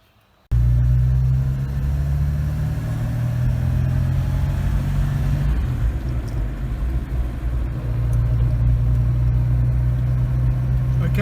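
A vintage Volvo 122S wagon on a test drive, its engine rumbling low and steady from inside the car with gentle changes in revs and continuous road noise throughout.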